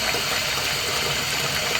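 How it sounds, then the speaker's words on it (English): Tap water running steadily into a Tupperware container at a sink, a continuous close rushing pour with no talk, during setup of an aquarium tank. "So I'm just going to fill the Tupperware up with water."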